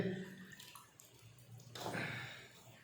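Lukewarm water is poured into gram flour for a Rajasthani besan dish, a soft, close splashing trickle that swells toward the end over faint background noise.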